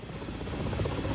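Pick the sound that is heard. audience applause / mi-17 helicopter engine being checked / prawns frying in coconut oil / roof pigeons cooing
mi-17 helicopter engine being checked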